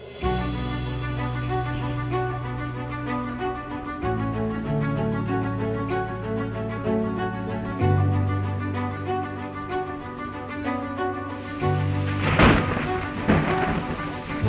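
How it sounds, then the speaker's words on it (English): Steady heavy rain pours across the African savanna during a thunderstorm, a rumble of thunder swelling near the end, with a low musical score running underneath throughout. "When the first rains touch the African savanna, the parched land awakens."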